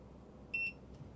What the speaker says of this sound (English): It's going to beep saying that it's calibrated.